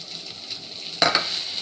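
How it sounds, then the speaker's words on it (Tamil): Tamarind sautéed with onions, dried chillies and rock salt in a pan, giving a steady light sizzle that is joined by a sudden stirring scrape about midway, with no one talking. "2 நிமிஷம் வதக்கினா போதும்"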